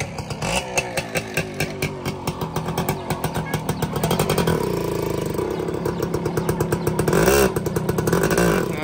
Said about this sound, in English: Ang ganda ng motor ni Jay, oh.